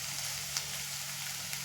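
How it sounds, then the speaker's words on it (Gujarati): Mixed vegetables sizzle while frying in oil for vegetable rava upma, a steady crackling hiss at close range with a few sharper pops and no talking. "આ રીતનું આપણે વેજીટેબલ બધું છે ને તેલમાં ફ્રાય થઈ ગયું છે."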